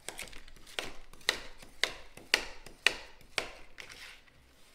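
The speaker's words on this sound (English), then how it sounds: "I'm just gonna take some frozen, really ripe bananas, and I'm gonna chop them up." A knife chopping frozen, very ripe bananas on a cutting board, about ten crisp, close cuts at a fairly regular pace with no talk over them.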